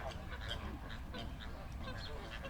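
A flock of flamingos calls in Kenya, a dense overlapping chorus of goose-like honks at moderate distance, continuous and fairly quiet over a rumbling background.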